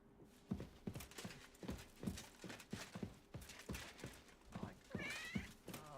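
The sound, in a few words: cat meowing in a video game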